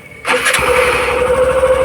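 A motorcycle engine cranks and catches with a sudden start, then settles into a steady close, rumbling idle with no voices.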